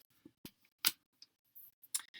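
Scissors snip out a paper sentiment in a handful of soft, crisp cuts spaced irregularly, quiet and close with near silence between snips.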